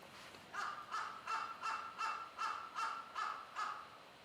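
Crows outside in Asakusa, Tokyo, give a steady series of about eight evenly spaced harsh caws, muffled and fairly faint as if heard from behind a closed door.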